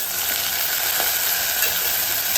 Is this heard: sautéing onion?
yes